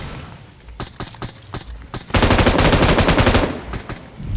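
Video game gunfire starts as scattered single shots, then breaks into a loud, sustained rapid automatic burst before tapering back to sporadic shots.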